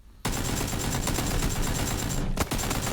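Sustained automatic gunfire in the PUBG battle royale game rattles out as a dense, loud burst of rapid shots that cuts off briefly near the end, with no talking.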